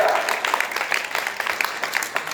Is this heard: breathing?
no